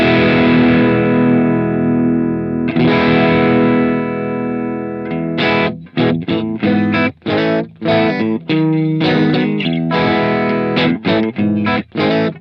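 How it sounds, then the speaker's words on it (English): Electric guitar through Bias FX 2 with the volume rolled down, giving a cleanish, slightly crunchy tone: a few long ringing chords first, then a choppy run of short, rhythmic strums and notes played alone. "it'll turn into a cleanish kind of guitar sound"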